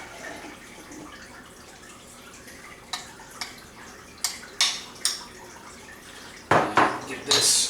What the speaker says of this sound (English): we'll just get this mixed up